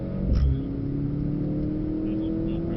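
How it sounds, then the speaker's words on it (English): Mercedes C63 AMG engine heard from the passenger seat, its note climbing steadily under acceleration out of a bend, loud and continuous. "here the engine note rising as I open the steering angle"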